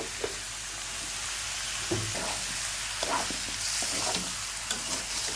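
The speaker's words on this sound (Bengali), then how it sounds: "এখন মাংসটা সাতলাইম" Meat sizzles steadily in a hot pan as it is sautéed, with a few scraping stirs of a utensil and the crackle swelling briefly, close and moderately loud, without talk.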